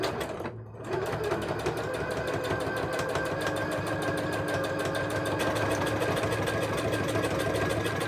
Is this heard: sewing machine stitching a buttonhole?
yes